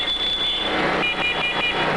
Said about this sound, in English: Finally, our alarms go off.